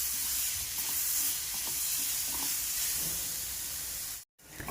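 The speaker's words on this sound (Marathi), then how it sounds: "हा काढून घेतलेला ठेचा यामध्ये टाकून घ्यायचा आहे आणि छान आपल्याला तेलावरती हा परतून घ्यायचा आहे" Fasting-style green chili thecha sizzles steadily in hot oil in a home kitchen, a dense close hiss with faint stirring scrapes throughout, briefly cutting out near the end.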